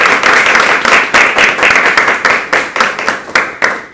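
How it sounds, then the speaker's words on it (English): A small crowd at a Toastmasters club meeting breaks into a round of applause, loud, dense and close, sustained with slight pulsing for a few seconds. "So should we give a huge round of applause to her?"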